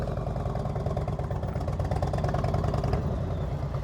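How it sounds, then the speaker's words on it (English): A motorcycle engine putters at slow speed during advanced slow-speed riding practice in Florida, a close, steady low rumble with an even throbbing pulse throughout. "You hear your engine puttering?"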